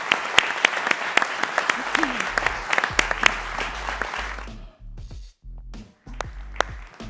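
An audience at a pitch competition applauds the entrepreneurs with a loud burst of clapping and a few sharp claps standing out. The applause thins out after a few seconds as a voice starts speaking over scattered claps.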